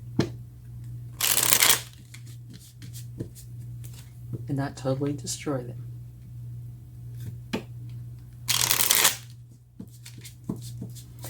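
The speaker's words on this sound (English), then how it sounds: "I'm going to try to shuffle and not knock them off onto the floor." Tarot cards are shuffled in two loud bursts of riffling, separated by someone speaking briefly, with a low steady hum in the background.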